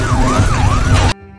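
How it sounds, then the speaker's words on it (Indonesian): A police car siren wails loud and close, its pitch sweeping up and down in a steady rising and falling cycle for about a second before it cuts off abruptly into near quiet. "mereka mendengar suara sirine polisi"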